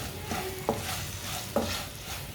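Salt, red chili and turmeric frying in a pan, a soft continuous sizzle with two brief stirring scrapes, close and fairly quiet.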